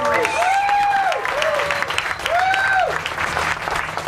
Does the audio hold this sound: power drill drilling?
no